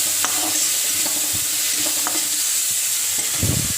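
Lightly fried fish going into a pan for a dish with greens and sour gravy, a steady close sizzle with scattered clinks and stirring knocks throughout.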